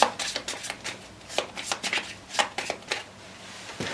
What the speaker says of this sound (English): And then we shuffle each stack individually.